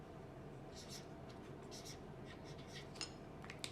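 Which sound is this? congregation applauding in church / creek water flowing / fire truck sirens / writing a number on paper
writing a number on paper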